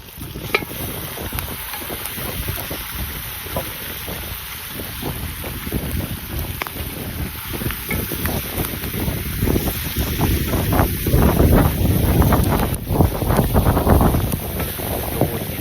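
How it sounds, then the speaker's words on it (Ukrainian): Strong wind buffets the microphone outdoors with loud, gusty rumbling that builds toward the end, alongside a steady high hiss. "Сьогодні дуже вітряна у нас."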